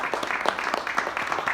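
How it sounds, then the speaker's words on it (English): A conference audience gives a round of applause, dense fast clapping at moderate distance that holds steadily through the whole moment. "I think we have a warm round of applause for Lois."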